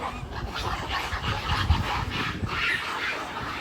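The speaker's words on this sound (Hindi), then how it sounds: "बंदर और कुत्तों की लड़ाई है। सारे बंदर आ गए इनके ऊपर।" Dogs yelp, whimper and bark in a close, busy scuffle during a fight between monkeys and dogs outdoors in Islamabad, the dog cries overlapping against a noisy background.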